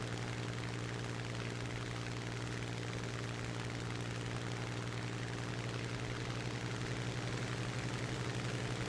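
Aircraft engines in a combat flight simulator game during a low-altitude dogfight, a steady droning propeller hum with constant tone throughout, fairly faint and without talk.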